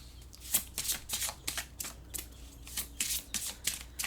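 An oracle card deck being shuffled close by, with quick soft riffling bursts of paper flicks repeating in a steady rhythm for a few seconds, no voices.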